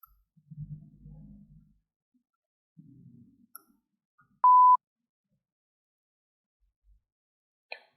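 A single clean electronic exam-timer beep sounds, short and loud, after a stretch of near silence broken only by faint low rustles.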